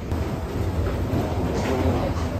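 A train in Denmark in snowy winter, heard as a steady, loud rumbling roar of rail travel with a faint hiss on top, continuous throughout without any talk.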